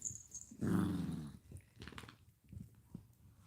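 A dog growls at puppies, a loud throaty rumble lasting about a second near the start, followed by quieter scuffling and low grumbles.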